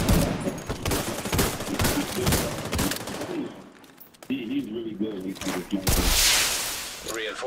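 Gunfire crackles in The Division 2 in bursts of sharp shots during the first few seconds, while someone talks loudly over it and the shooting later gives way to his speech.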